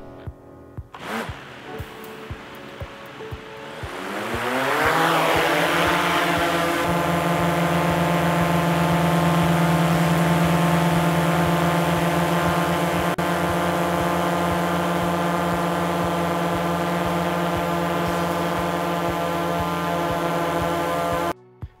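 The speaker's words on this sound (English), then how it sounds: "pay attention on how the new motors are spinning up" A DJI Mavic Pro Platinum drone's motors spin up from a few ticks into a rising whine, then hold a loud, steady, close buzzing hum with layered tones for many seconds.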